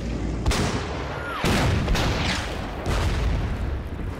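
Booming blasts from bombs striking an airfield in a World War II video game set at Guadalcanal with U.S. Marines, three heavy explosions spaced about a second apart over constant rumbling battle noise.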